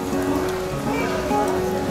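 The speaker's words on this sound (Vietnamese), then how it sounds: "Có những thời điểm thì trời mưa nó cứ dai dẳng như thế này" Persistent rain falls at Mỹ Khê beach, a steady close patter on surfaces, and a voice speaks briefly over it.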